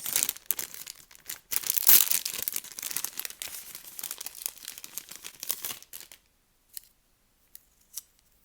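Close crinkling and tearing of the plastic wrap on a pack of pencils, busy and rustly for several seconds, then a few faint scattered crackles before falling quiet.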